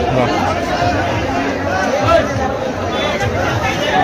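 A dense crowd of devotees at Kal Bhairav Temple in Ujjain fills the space with a steady hum of overlapping chatter and babble, loud and continuous throughout.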